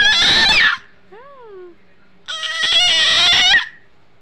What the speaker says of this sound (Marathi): कसं ओरडता येतं तुला, कसं ओरडता येतं तुला.